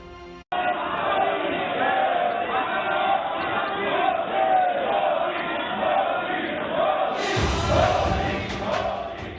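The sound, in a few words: applause and chants of Modi Modi in parliament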